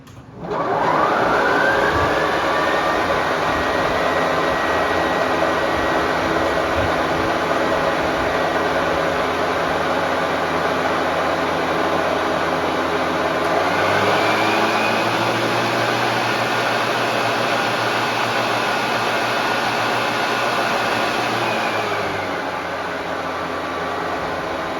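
A Toro 60V TimeMaster battery lawn mower whirs steadily with a smooth motor hum and airy rush, pitch shifting partway through, close and continuous without voices.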